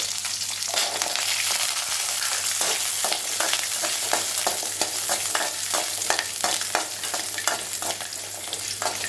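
Onion and garlic fry in a pan and get stirred steadily, giving a loud continuous sizzle broken by rhythmic scraping strokes, close up with no voices.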